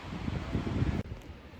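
Wind gusts at the beach buffet the microphone with a loud, rumbling roar that drops away suddenly partway through, leaving a softer steady rush.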